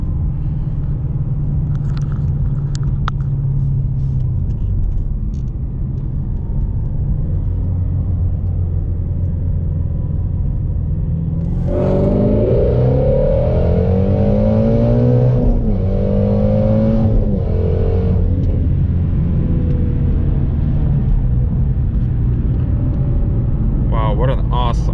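A Whipple supercharged Shelby GT350 being driven, heard from inside as a loud, steady engine rumble with a rising tonal whine partway through, and a person talking over it.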